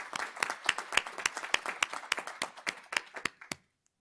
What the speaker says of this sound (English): Could we please just take a moment and give a round of applause for those team members?